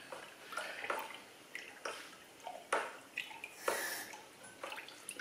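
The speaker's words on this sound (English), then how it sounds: "Give that a good stir in." Red wine kit juice being stirred in a home fermenter for a Merlot, a series of soft sloshing and splashing strokes, close and quiet, with no talk over them.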